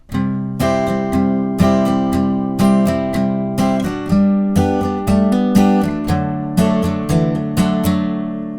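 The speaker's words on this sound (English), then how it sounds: "And for that last line with the hammer-ons," Acoustic guitar chords of a song strummed in a steady rhythm, about a dozen clear strums with ringing sustain and quick melodic hammer-on notes between them, played alone.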